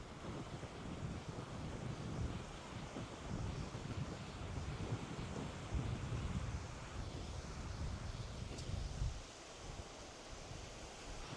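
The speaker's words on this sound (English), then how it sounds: "The Irish Sea" Surf of the Irish Sea at Towyn beach, North Wales, washing steadily as a broad rushing roar mixed with buffeting wind on the microphone, easing briefly near the end before swelling again; no one speaks.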